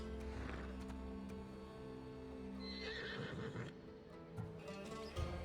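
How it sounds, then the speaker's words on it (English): A horse whinnies loudly over a steady layered background score in the video game Assassin's Creed Odyssey, with a second shorter neigh later and some hoof-like clopping. "Little do you know that this is Hades' horse."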